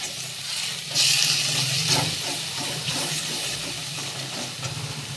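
Salt, turmeric, coriander and cumin powder masala frying in a pan for a soybean and potato curry, a steady close sizzle and hiss with soft stirring scrapes throughout.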